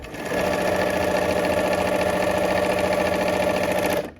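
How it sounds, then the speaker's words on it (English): A sewing machine back stitches through fabric, its motor whirring in one steady, close, loud run of rapid stitches for about four seconds before stopping. "I'm back stitching there at the beginning, okay, so that it doesn't unravel"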